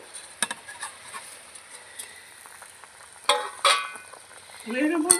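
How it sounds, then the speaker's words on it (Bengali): Pre-fried fish added to a hot pan, quiet sizzling with scattered clinks and scraping of a utensil, a couple of louder stirring bursts and a rising sizzle toward the end. "ভেজে রাখা মাছগুলো দিয়ে দিচ্ছি"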